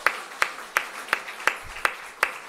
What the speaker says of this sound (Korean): 색소폰 듣고 싶으면 박수 한번 칩시다